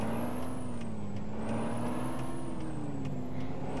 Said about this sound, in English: I really like the engine noise of this truck